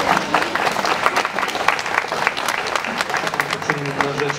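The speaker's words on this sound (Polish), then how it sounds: "Wielkie brawa dla niego." Crowd at a town celebration applauding during a thank-you ceremony, a lively, sustained round of clapping with crowd voices mixed in underneath.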